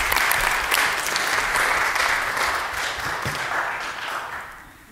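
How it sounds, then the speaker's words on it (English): A church congregation applauds at a Sunday service, a dense, steady wash of many hands clapping together that holds for several seconds, then thins and fades out toward the end. "Give her a clap."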